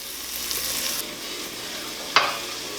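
Bacon fat sizzles and fries in a pot for a roux, a steady hiss of crackling grease with a sharper spatter pop near the end, close and alone with no talk.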